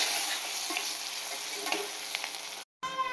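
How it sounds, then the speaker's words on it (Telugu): Green chillies, onions and turmeric stirred in a hot pan for a Telugu pachipulusu, a steady close sizzle with soft scraping strokes, briefly dropping to silence near the end. "గ్రీన్ చిల్లీస్, ఆనియన్స్, చిక్కడంత పసుపు వేసుకొని మిక్స్ చేసుకోవాలి."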